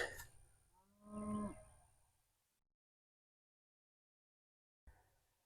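Cattle on a ranch give one clear moo near the start, fairly close, then the sound drops to near silence before a brief noise at the end.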